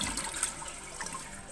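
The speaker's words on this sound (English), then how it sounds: "Flush it" Toilet flushing after a Fluidmaster 400A fill valve replacement: a steady rushing wash of water throughout, close and moderately loud, with no voices.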